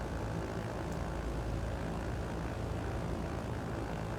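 The three engines of a BN2 Trislander drone steadily in Microsoft Flight Simulator 2020, a constant loud propeller hum with no change and no talk.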